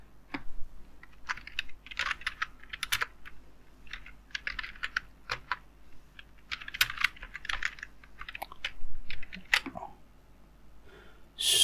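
Someone types on a computer keyboard while coding a React Native app, with steady irregular runs of crisp key clicks close by and no talking.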